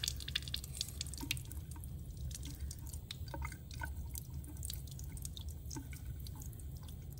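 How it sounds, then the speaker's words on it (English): Water rinses stain dye off a microscope slide as irregular close drips and trickles patter over a low, steady running-water hiss. "you're gonna just rinse all of this dye off"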